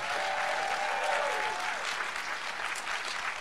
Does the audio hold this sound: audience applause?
yes